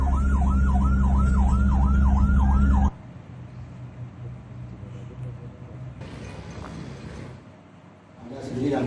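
A PMI ambulance siren in Salatiga, Indonesia, wails loudly, sweeping up and down repeatedly for about three seconds, then cuts off, leaving muffled traffic and background noise.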